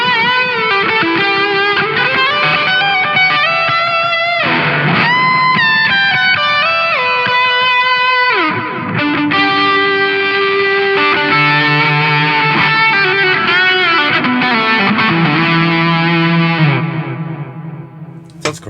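Telecaster electric guitar on the bridge pickup, played through a Turner QGS 800 with digital delay and mids turned up, giving a loud, continuous run of sustained distorted notes and bends with echo trailing off at the end.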